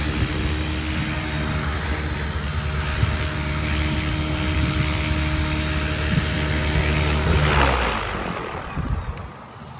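Blade Fusion 550 Stretch RC helicopter hovering nearby with a steady, loud whining rotor and motor hum, then the pitch shifts and the sound swells and fades near the end.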